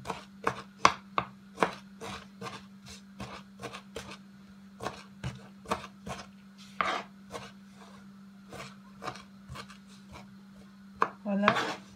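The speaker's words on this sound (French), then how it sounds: "Je découpe entre temps les oignons encore. Je les découpe en tout petit." A knife chops onions very finely on a cutting board: quick, crisp taps in an uneven rhythm, close by and moderately loud, with a steady low hum running underneath.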